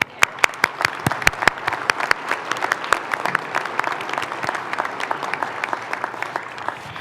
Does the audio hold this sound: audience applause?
yes